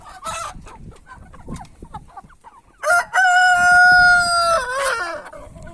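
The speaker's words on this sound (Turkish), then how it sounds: "Ben şimdi bu yaramaz tavuklarımı bir salayım. Sabırsızlıkla kapının önüne geldiler, bekliyorlar." Chickens cluck and squawk close by at a coop door, then a rooster crows loudly in a long, drawn-out call that ends in a quavering fall.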